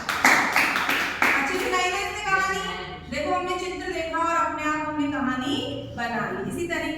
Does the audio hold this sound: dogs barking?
no